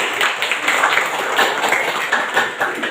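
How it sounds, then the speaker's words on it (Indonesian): Students in a classroom clap together in a short rhythmic burst, close and lively, with quick hand strikes in a repeated pattern. "Ya, tepuk tangan"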